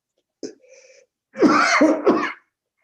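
During a public safety committee meeting, a brief vocal catch is followed by one loud, close sneeze with a forceful burst and a short tail.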